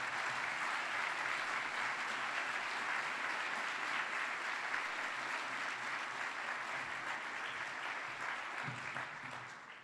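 An audience at the 2019 National Humanities Conference applauds to welcome the NEH chairman, a steady, fairly soft wash of many hands clapping for about ten seconds before tapering off at the end.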